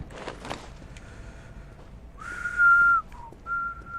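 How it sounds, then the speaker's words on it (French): A person whistles a few clear notes while playing the zombie game ZombiU, one held pitch and then two shorter ones after some faint background game noise. "je vais peut-être pas siffler, je sais pas ce que ça vous fait niveau écouteur"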